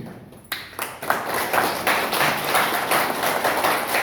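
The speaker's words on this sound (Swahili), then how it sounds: "Tungepigie makofi." An audience at a community meeting about volunteers building a school breaks into applause after a sharp start, a dense sustained patter of many hands clapping for several seconds.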